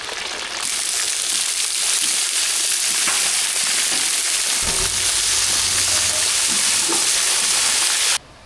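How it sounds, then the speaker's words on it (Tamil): Sliced plantain goes into a pan of hot spice tempering for a vegetable biryani, and a loud, steady frying sizzle fills the whole span close up, with a brief stir midway and nobody speaking. "தாளிப்பு ரெடி ஆகிட்டு வாழைக்காய் சேர்த்துக்கணும்"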